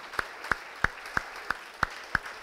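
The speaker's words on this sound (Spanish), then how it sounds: "¿Qué tal si le das una ofrenda de palmas al Eterno?" Sharp single hand claps in a church service, eight evenly spaced loud claps at a steady moderate tempo, close and clear with little else beneath them.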